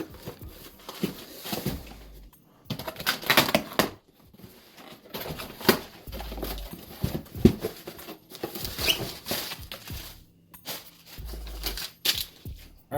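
A heavy package of tech gear, including iPad Pro 11 cases, being cut and torn open: bursts of scraping, ripping and crinkling of cardboard and plastic with short pauses between, close and fairly loud.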